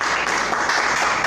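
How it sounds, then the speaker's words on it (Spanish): A congregation in a church Bible lesson breaks into brief, dense applause, a steady wash of many hands clapping together for a moment. "Denle un aplauso al Señor"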